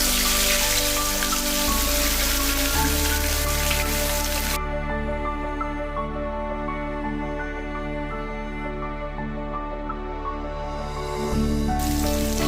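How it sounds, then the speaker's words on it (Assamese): Steady, loud sizzling and crackling of fish frying in hot oil in a kadai fills the whole stretch, with a denser hiss at the start and end and no voices. "এতিয়া কেৰাহী মোৰ গৰম হৈছে মাছ ভাজিবলৈ।"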